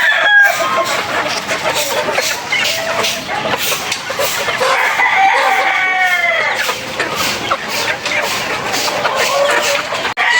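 Gamefowl chickens cluck busily in a yard while a rooster crows partway through, with more crowing in the background, all close and loud amid a steady outdoor din.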